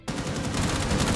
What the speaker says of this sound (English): He's going to open up more gunfire